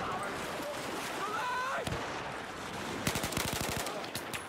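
Quick bursts of automatic gunfire in a Battlefield 4 match, a tight rattling string of shots late on over a steady background hum, with a voice heard in the mix.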